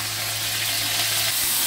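Soy sauce hisses and sizzles in a frying pan with hot olive oil and garlic, a steady, bright crackle at close range with no talk.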